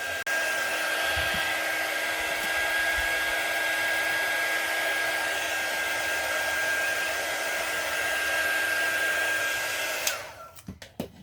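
A hair dryer blows steadily on a transfer layer to dry it, a continuous whirring hiss held at even loudness for about ten seconds before it switches off, followed by a few small handling clicks.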